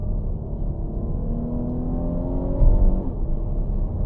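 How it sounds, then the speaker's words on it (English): A 2019 Jeep Cherokee 4x4 V6 engine drones steadily from inside the cabin in manual mode, its pitch rising and shifting as it revs, with a brief jerking jolt partway through. "I'm not for sure if you heard the audio of the engine just jerking."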